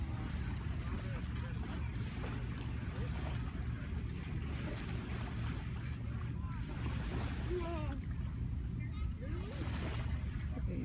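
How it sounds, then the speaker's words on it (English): Ocean waves and wind on a Florida beach make a constant, loud rushing roar with wind buffeting the microphone throughout, and no clear talk over it. "first time at the beach"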